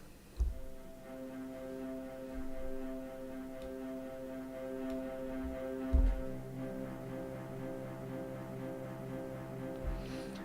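Orchestral string staccato mock-up played plain with no accents, a steady sustained harmonic texture with soft repeated rhythmic pulses and occasional low thumps, moderately quiet and without speech.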